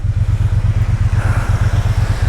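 A Triumph Bonneville motorcycle, roughly 220–230 kg, idles close by with a loud, rapid, even engine thump pulsing steadily throughout the short stretch.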